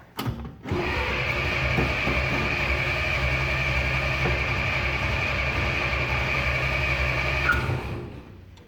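A 1967 Jeep Gladiator engine, dormant over 30 years, cranks: a steady, loud mechanical churning drone runs for several seconds after a brief start without catching, then stops.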